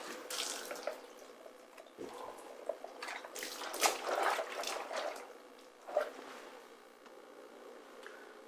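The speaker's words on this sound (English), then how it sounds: "Give it a good rinse." Running water splashes and gurgles unevenly, with sloshing surges and drips as water is rinsed and poured out of a hydration bladder, fairly quiet and close.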